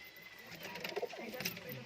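Fancy pigeons in a loft give soft, low coos against quiet room noise, faint and brief, with murmured background sounds around them.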